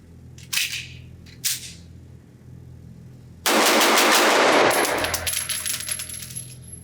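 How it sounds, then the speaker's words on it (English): An Atlas Gunworks Athena 2011-style pistol fired at a range, two sharp single shots followed by a loud burst of rapid gunfire that trails off into clattering. "I'm going to shoot this gun as fast as I can, see what happens when I change this magazine fast."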